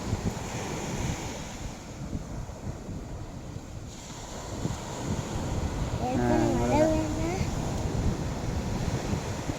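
Ocean waves wash steadily onto the shore at Valangapuri beach where fishermen haul nets, a continuous broad roar with wind buffeting the microphone and faint voices in the background.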